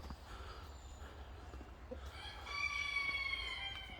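Outdoors on a smallholding after rain, chickens cluck softly at a distance, and a rooster's crow rises faint but clear in the second half over low background rumble.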